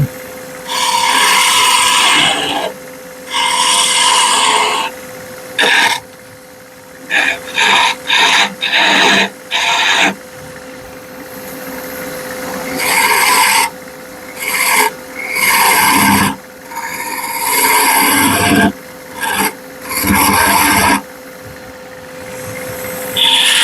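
Skew chisel cutting a bead in wood spinning on a lathe, a loud rasping scrape in repeated bursts of varying length separated by short pauses, with a steady motor hum beneath.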